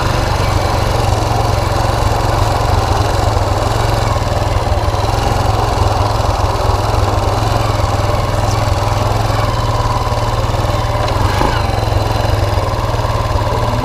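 A fire-damaged 2001 Kawasaki Bayou KLF 300 ATV runs loud and close while being ridden, its engine a steady, continuous drone with no letup.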